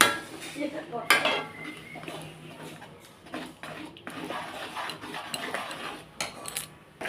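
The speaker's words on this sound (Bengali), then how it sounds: "হলুদটা দিয়ে হালকাভাবে নাড়া দিয়ে দেবো" Boiled jute leaves with turmeric are stirred in a metal pot, with irregular clanks, scrapes and clinks of utensil against the pot and a faint background murmur.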